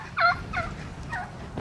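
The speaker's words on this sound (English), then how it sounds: "That turkey's over there in the pen." A turkey in a farm pen gobbles in a few quick warbling bursts, fairly close and clear against quiet outdoor background, with no speech.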